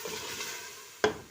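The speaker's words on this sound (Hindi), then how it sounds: "अब हम इसे मिक्स करेंगे।" Mutton and potato korma is stirred in a pot with water just added, giving a soft wet scraping followed by two short, sharp clinks of a utensil against the metal, close and fairly quiet.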